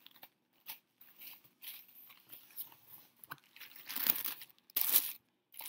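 Crinkling and tearing of packaging as an Erin Condren mail package is opened, with soft intermittent crunches building to louder rustling bursts near the end, close by and without talk.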